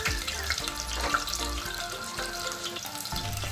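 Chopped garlic from a whole bulb is frying in hot vegetable oil, giving a steady, dense sizzle and crackle that runs without a break at close range.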